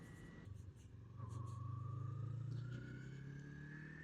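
A Yamaha MT-03 motorcycle on a ride home from work, its engine holding a steady, close drone that swells after a second and climbs slowly in pitch as it accelerates.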